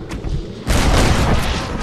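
Gunshot in the Western video game Red Dead Redemption: a single loud, broad blast that lands abruptly partway through and rings out with a sustained rumbling tail.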